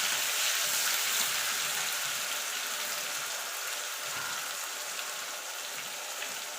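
Onion paste hitting hot oil with tempering spices gives a continuous, even, rain-like sizzle at moderate volume, close by and with no voices over it.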